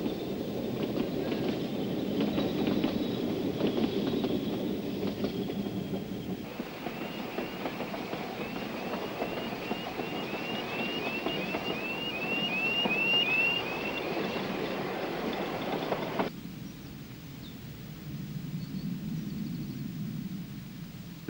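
A Ffestiniog Railway train runs along a lakeside in 1983, with a steady rolling rumble and clickety-clack of wheels on rail joints. A thin, brief squeal of wheels rises midway before the noise drops away.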